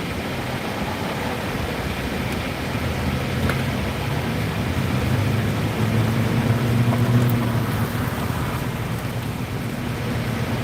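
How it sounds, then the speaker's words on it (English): Rain pours steadily through a thunderstorm while low thunder rumbles and swells midway, heard outdoors during a local storm chase. "if you hear thunder roaring, go indoors."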